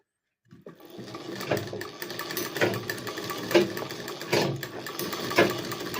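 A sewing machine stitches cloth in bursts of rapid mechanical clatter, with a few sharper knocks in between, close and fairly loud after a brief silence at the start.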